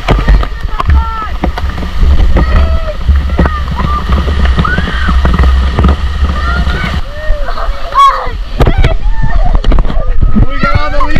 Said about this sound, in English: We washed them off in the waterfall.